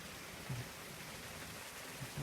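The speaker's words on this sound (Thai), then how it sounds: "วันนี้ฝนตกด้วยนะครับผมที่บ้านนานครนายกนะครับฝนตก" Steady rain falls at a home in Nakhon Nayok, a soft even hiss throughout with a few faint low thumps, fairly quiet and with no one talking.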